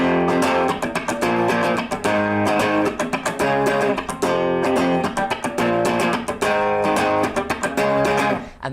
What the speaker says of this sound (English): the first thing I'm going to teach you how to play in this lesson is this main riff